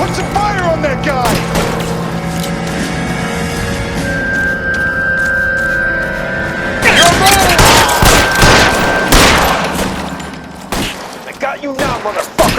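Dense video-game gunfire in L.A. Noire, rapid overlapping shots and bursts that intensify into a loud sustained volley, with someone talking over the action.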